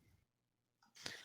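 A single short sneeze near the end, brief and fairly soft, after a quiet breath and near silence.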